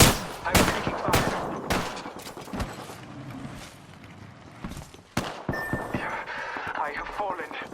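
Gunfire in the video game Apex Legends crackles in loud, sharp bursts and rapid volleys, coming in clusters and then thinning out, while game voices speak over the shooting.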